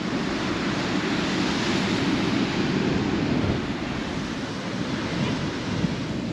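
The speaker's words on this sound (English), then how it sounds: "I'm just happy to be at the beach." Ocean waves washing onto the shore at a beach, a steady broad roar of surf with some wind buffeting, continuous and fairly loud throughout.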